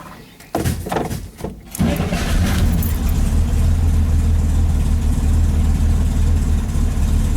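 A Chevrolet Corvair engine with freshly cleaned carburetors cranks in a few short bursts, catches and settles into a loud, steady, rumbling idle close by.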